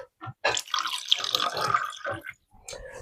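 Tap water runs in a kitchen, a splashy, broadband gush that starts and stops in uneven bursts, close and fairly loud, with short gaps of near silence.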